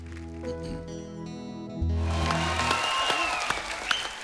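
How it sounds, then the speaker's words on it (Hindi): Audience at a Bollywood music talk show claps, a burst of applause breaking in after a sustained musical tone, fairly faint and ending in scattered claps. "इनका भी दिल कर रहा है खड़े होकर ताली बजाने को।"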